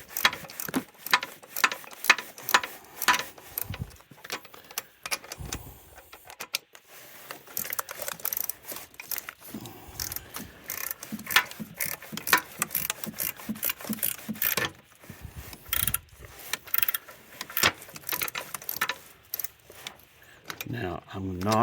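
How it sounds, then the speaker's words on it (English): A ratcheting wrench clicks in rapid bursts of short ticks with pauses between them, working on a 2020 Dodge Charger 3.6 V6 engine during a tune-up, with some tool handling and metal jingle in between. "I'm using a ratcheting wrench."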